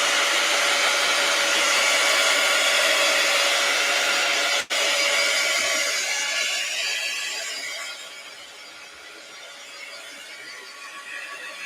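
A hair dryer runs steadily and close, drying thin texture paste on small art cards, with a brief cut midway and the blowing tone shifting and easing slightly toward the end.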